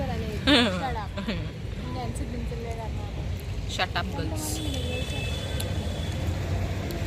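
From inside a moving bus in Khopoli, a low, steady engine and road rumble fills the cabin, with people talking over it and brief rattles and clicks now and then.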